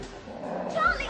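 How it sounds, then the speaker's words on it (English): A dog gives a short yappy bark and whine close by, mixed in with a person talking. "You stupid dog! Get off me!"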